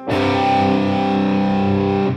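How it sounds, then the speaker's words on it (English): A single heavily distorted electric guitar power chord with a low G, strummed once and held loud, ringing steadily for about two seconds without fading. "it's a power chord with a low G in it"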